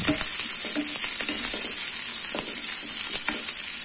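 A large roughly chopped onion and garlic cloves sautéing in oil, a loud continuous hiss close by with faint scrapes of stirring and no talking.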